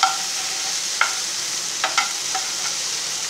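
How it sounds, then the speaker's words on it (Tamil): Ingredients for green gram gravy, with asafoetida, lightly frying in a pan: a steady soft sizzle runs throughout, broken by a few brief scraping stirs, close and moderate in level. "இப்போ லைட்டாக ஃப்ரை பண்ணால் போதும்."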